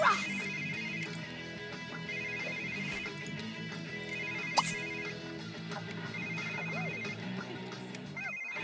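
Phone ringing in The Sims 3, a repeating electronic ringtone with steady tonal bursts playing over game music and ambient effects, with a brief sharp click midway.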